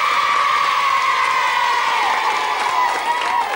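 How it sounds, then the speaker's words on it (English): A studio audience applauds and cheers at the start of the BBC Movie Game final, a dense and steady roar of clapping with a few whoops that holds at full volume the whole time. "let's start the game with a round of applause then"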